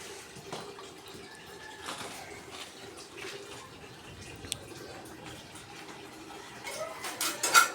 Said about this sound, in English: Flowing water over here.